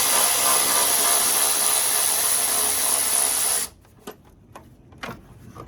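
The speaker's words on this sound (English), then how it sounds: "We got a 5/16 socket and take off the cover here." A power driver with a 5/16 socket spinning off a cover bolt on a 2004 Chevrolet Tahoe, a loud steady whirring buzz that cuts off abruptly, followed by light clicks and handling noises.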